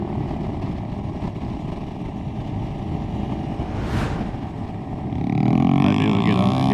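An electric motorcycle accelerates at half throttle: steady road and wind rush, then a rising motor whine swells near the end, with no voices.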